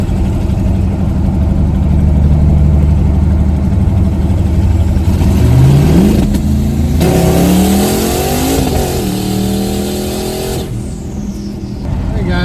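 A Hemi-powered car accelerates hard toward 60 mph, the engine roaring loudly up through the revs with a rising tone, then easing back to a lower steady drone as speed holds.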